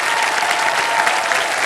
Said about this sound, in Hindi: तालियां बजती रहे देवी सजो इनके लिए।